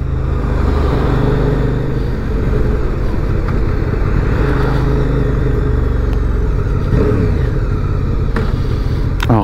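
A 2023 QJ Motors SRV 550 motorcycle engine sounds while riding: a loud, steady, close engine rumble runs without a break from start to finish, with no talking.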